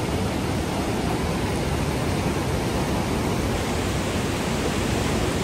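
Hot spring water at Badrinath Temple gushes in a constant, loud, even rush with no breaks and no voices.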